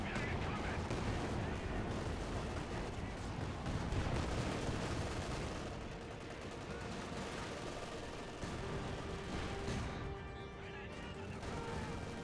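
Artillery barrage in Company of Heroes 2, Soviet and British forces against German Ostheer, crashing onto support weapons: a dense, continuous rumble of explosions and gunfire under a commentator's voice throughout.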